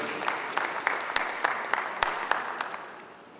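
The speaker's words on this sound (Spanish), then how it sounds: "Vamos a recibirle con un fuerte voto de aplausos al doctor Iván Rodríguez" Applause at a university event in Peru greeting a guest speaker, a smallish audience clapping steadily with individual sharp claps standing out, moderately loud and tapering off at the end.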